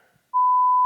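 A single steady electronic censor bleep, a pure sustained tone lasting about half a second, cuts in abruptly after a brief murmur of speech and blots out a spoken company name.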